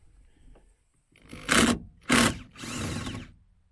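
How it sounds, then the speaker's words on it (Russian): A cordless screwdriver fitted with a bit, used while repairing a VAZ 2106 car, runs in three short, loud, close bursts with brief pauses between them. Nobody speaks. "Возьму вот биту и обычным вот шуруповертом своим"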